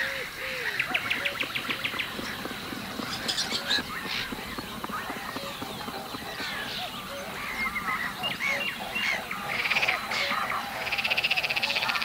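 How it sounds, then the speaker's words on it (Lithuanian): Dense dawn chorus on waterlogged, marshy banks of the Biebrza River near Białystok, with many birds calling and honking together alongside croaking frogs, a continuous layered wildlife din at moderate distance. "Užpelkėjusios ir vandens semiamos upės pakrantės kupinos paukščių klegesio."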